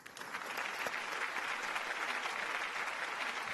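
A studio audience on a Marathi television music competition, Sangeet Samraat, bursts into sustained, loud applause, an even wash of many clapping hands lasting the whole stretch.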